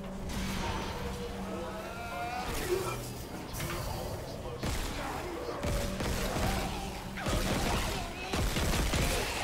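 Repeated gunfire in the Dead Space video game, sharp shots and weapon clatter landing at irregular intervals against a murky game backdrop, with a person talking between and over the shots.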